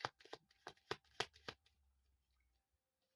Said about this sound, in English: I will grab some extra cards for you, Scorpio,